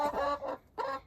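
Hens cluck inside a warm chicken coop, three short throaty clucks in quick succession, close and clear with no talking.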